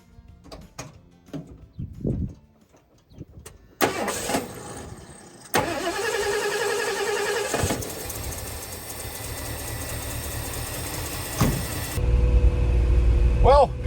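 A car with a slightly fouled spark plug is cranked and starts after a few clicks and knocks, then idles with a slight miss at low revs and revs louder near the end, with talk over part of it.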